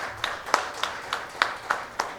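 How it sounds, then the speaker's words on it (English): A small audience at a seminar on managing finance for SMEs claps for the speakers: a quiet, thin round of about seven distinct claps at an even, unhurried pace, with little crowd noise behind them. "we can applaud for the speakers and yourself"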